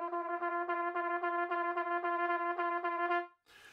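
A wind instrument plays a fast run of repeated notes with steady, full airflow but soft, blurred doodle-style tonguing that leaves each note poorly defined, heard alone for about three seconds before stopping.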